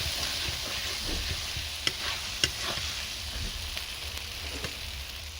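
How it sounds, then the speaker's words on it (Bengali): Spice paste for a home-style Bengali village chicken curry sizzles steadily in the pan, a continuous close hiss broken by a few sharp scrapes and clicks of stirring, with no talking. "মশলা ভালোভাবে ভাজা হয়ে গেছে"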